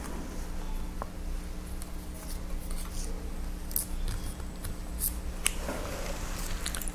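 Scissors snip through thread after basting a fabric cloud, giving a few quick crisp clicks close by over a steady low background hum, with no talking.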